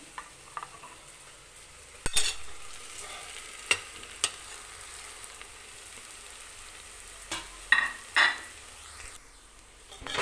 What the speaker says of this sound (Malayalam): നമ്മുടെ പൊടികളെല്ലാം നന്നായിട്ട് പച്ചമണം മാറുന്നിടം വരെ എണ്ണയിൽ നമുക്കൊന്ന് അധികം മൂപ്പിക്കാം